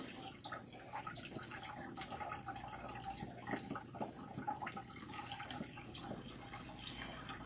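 Running water flows steadily and close by as bentonite clay is rinsed out of natural hair, a constant broadband splashing with small drips throughout, continuing under and between spoken remarks.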